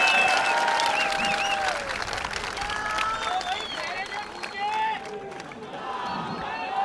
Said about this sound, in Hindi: तो एक ज़ोरदार तालियां अपने खुद के लिए बजा दीजिएगा मेरे दोस्तों।